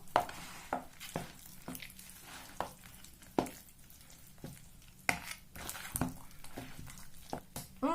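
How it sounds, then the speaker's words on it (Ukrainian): Eggs being stirred into raw liver pancake batter in a bowl, with uneven clicks and knocks of the utensil against the side and soft wet mixing sounds in between, close and fairly quiet, with no talking. "Все це діло перемішуємо, вимішуємо."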